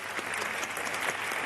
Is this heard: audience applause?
yes